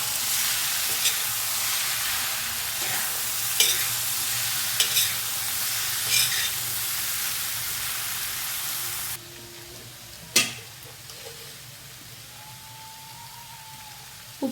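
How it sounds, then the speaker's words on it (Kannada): Pav bhaji masala being stirred in a frying pan on medium heat, a continuous bright sizzle with scraping spoon strokes at intervals, close up; the sizzle drops abruptly partway through, followed by a sharp clink and softer stirring. "ಮಿಕ್ಸ್ ಮಾಡೋಣ ಚೆನ್ನಾಗಿ."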